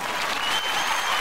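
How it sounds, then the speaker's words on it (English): Steady hand clapping sounds like a burst of dense applause, loud and close, continuous for about a second with no voices. "I want to thank you all out there by giving you a clap"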